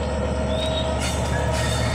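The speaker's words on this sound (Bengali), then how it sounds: "রেলটি আবার ছুটে যাচ্ছে যাত্রী নিয়ে শিবচর স্টেশন থেকে" A passenger train pulls out of Shibchar station, with a continuous loud rumble of rolling carriages and high wheel squeal running throughout, close and steady, with no talking.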